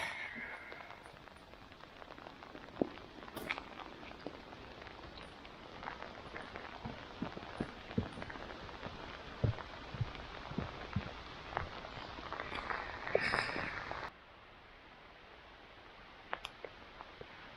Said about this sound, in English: can you hear the rain on the leaves?